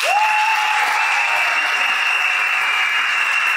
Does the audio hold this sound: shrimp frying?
no